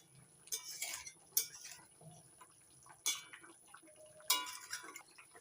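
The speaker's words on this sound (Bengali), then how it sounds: "ভেজে নেয়া জিরে বাটা জিরে বাটা দিয়ে একটু নাড়াচাড়া করে দিচ্ছি হালকা করে" A spoon clinks against a pot while hilsa fish curry with fried cumin paste is gently stirred, giving a few faint, scattered metallic scrapes and taps at close range.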